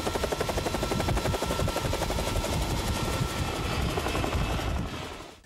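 A helicopter's rotor thumps in a fast, steady chop with a loud engine roar while flying over a cattle drive in Australia, then fades slightly at the very end.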